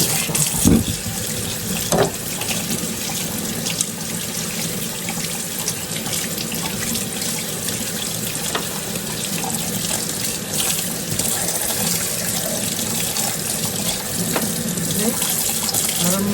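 Warm water running steadily from a kitchen tap into a sink while preparing cassava, a continuous splashing gush lasting the whole stretch, with faint talk in the background.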